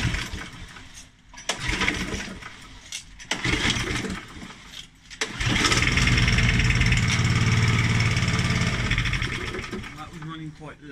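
A Challenge Xtreme XSS40A lawn mower with a priming fault turns over in short, uneven attempts, then catches and runs low and rough for several seconds, close to the microphone, before fading out.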